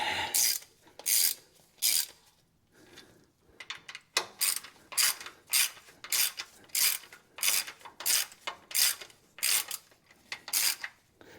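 A ratchet cranks the timing cover bolts on a 1968 Ford XL, with repeated bursts of rapid clicking in a steady rhythm, close and loud, separated by short pauses.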